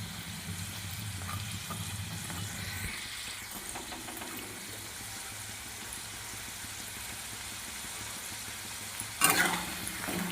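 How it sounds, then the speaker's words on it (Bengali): Samosas deep-frying in oil: a continuous low bubbling sizzle running steadily throughout, with a brief sharper clatter near the end. "এক এক করে এরকম সব ভেজে নিব"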